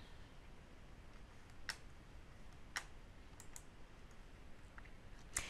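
Computer mouse clicks come as sparse, faint, sharp single taps spaced a second or so apart over quiet room hiss.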